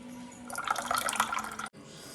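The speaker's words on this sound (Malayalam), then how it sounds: "പുളിവെള്ളം നമുക്ക് ഇതിനകത്തോട്ട് ഒഴിക്കാം" Tamarind water is poured into a bowl, a splashing, gurgling trickle for just over a second that stops abruptly in a quiet room.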